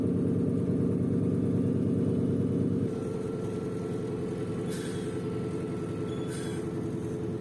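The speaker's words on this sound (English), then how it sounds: "the pilots already fired up the engine" A loud, steady low radial engine rumble from a 55-year-old Antonov An-2 biplane starting up drones close by, with a rhythmic throb, dropping slightly in level partway through, with brief hissing bursts.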